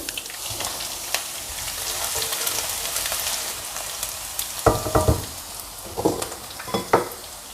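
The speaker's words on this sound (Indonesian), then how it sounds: "Tak goreng dulu ini bawang merah, bawang putih." Shallots and garlic fry in an open pan with a steady broadband sizzle throughout, joined near the end by a few louder bursts of stirring and spattering.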